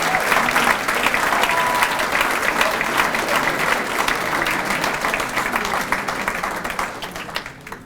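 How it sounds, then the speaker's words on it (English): Dense, sustained audience applause fills a hall at a scholar-athlete awards ceremony and thins out slightly toward the end, with no clear talk over it. "let's give a big round of applause for Team Maine 2016"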